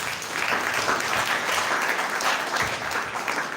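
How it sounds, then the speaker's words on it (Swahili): An audience at a career guidance session claps together, a dense, steady burst of applause sustained evenly throughout. "makofi"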